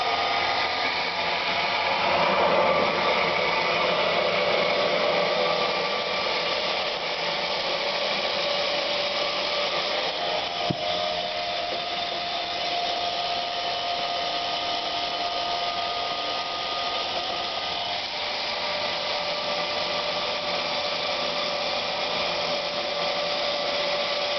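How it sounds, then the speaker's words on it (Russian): A homemade firewood bucking saw built around a chainsaw bar and chain, with chain oiling on, cuts through an oak log about 30 cm across. It gives a loud, steady, high-pitched whine that holds unbroken throughout, with no talking. "Значит, включаем подачу масла, включаем шину и режем."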